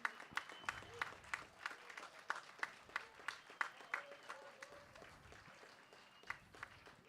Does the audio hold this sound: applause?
yes